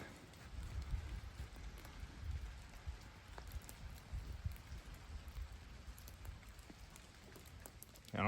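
Rain falls steadily through wet woods, a soft, even patter with scattered drips landing close by. The patter is fairly quiet and continuous, with no voices.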